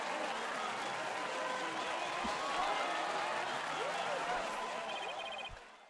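A crowd cheers and applauds in the Ace Attorney video game, a dense, steady roar of clapping and cheering that fades near the end.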